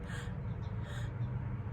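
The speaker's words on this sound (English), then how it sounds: "Another form of breathing is going to be mouth breathing, and that's more of the ceremonial breathwork breathing." Two quick, faint breaths drawn in through the mouth, spaced under a second apart, in the style of ceremonial breathwork, heard alone against quiet background hiss.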